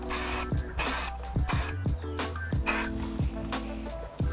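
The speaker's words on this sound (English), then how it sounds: "I'm going to spray it with this" Repeated bursts of hissing aerosol spray paint onto the horns of a Honda Civic Type R EP3, short blasts in a rough rhythm with brief pauses between, close by, over a low background hum.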